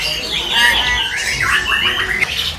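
A caged bird at a bird market kiosk gives a run of harsh, rapid squawks and chirps, close and fairly loud over faint background noise.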